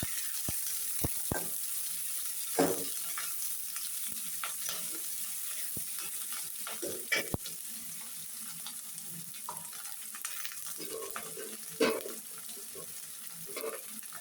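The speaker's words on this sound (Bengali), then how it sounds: "কাঁচামরিচ এর ফালি। এটা একটু হালকা করে ভেজে নেব।" Sliced green chillies lightly frying in a pan, a soft steady sizzle broken by occasional clanks and scrapes of a spoon, fairly quiet and close.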